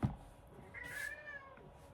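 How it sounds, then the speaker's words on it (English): A pet cat gives one soft, drawn-out meow partway through, faint and close in a quiet room after a brief bump. "here comes my kitty cat, Peek Peek."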